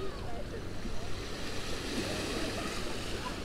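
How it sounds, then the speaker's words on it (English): Ocean waves washing in as a steady broadband rush, with some wind buffeting the microphone and no talk. "here we have some waves"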